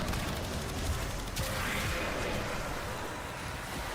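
Kuva weapon gunfire from the Warframe video game sounds as a steady, fairly faint stream of rapid shots that runs the whole time with no pause.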